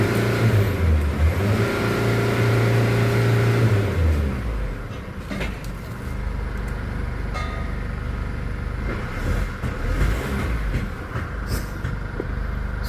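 Chevrolet Colorado pickup engine idling steadily after a no-start fault, with a strong low rumble and a brief rising rev at first, then a constant near hum with faint clunks over it.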